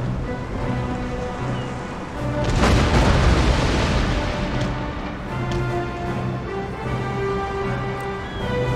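An Empire: Total War naval battle on a bay, with a ship firing a broadside of eight cannons: a heavy booming roar swells over rolling sea and ambient battle noise, then fades into a distant rumble.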